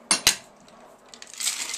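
Metal lid clacks twice onto an ice-filled cocktail shaker, two sharp close clinks followed by faint rattling of ice and metal.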